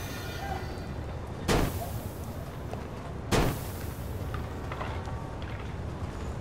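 Two sharp gunshots from the crime game Mafia 2, spaced about two seconds apart, each a sudden loud crack over a steady rumbling background.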